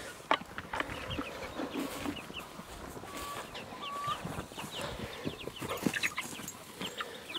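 Heritage breed meat chickens in a chicken tractor on a homestead farm cluck and chatter in a busy, overlapping stream of short calls, fairly close, with scattered louder squawks and no talking.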